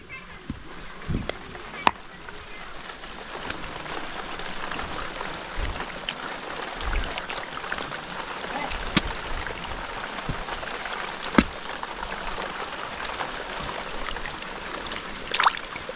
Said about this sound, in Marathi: असं सानं फोडून या ह्याच्यातलं पाणी ह्या मलकंडीतलं आता खालच्या मळीत आपण घेतो आहे